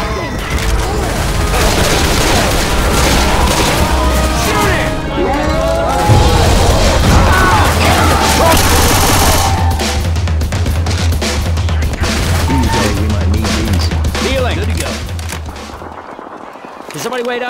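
Dense, continuous gunfire and explosions in the Left 4 Dead 2 Kalinin HQ survival map, loud and sustained with heavy low booms throughout, while players shout over the shooting.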